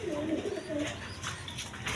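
Large, king-sized Raj Golla pigeons coo in a low, repeated burble that runs steadily through the short stretch, close by, over faint background noise.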